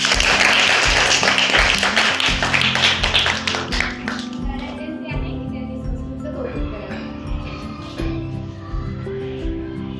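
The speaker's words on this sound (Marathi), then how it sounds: "एकदा तुमच्यासाठी जोरात टाळ्या।" Schoolgirls at a girls' high school clap loudly together, then the clapping thins and fades out while music plays underneath.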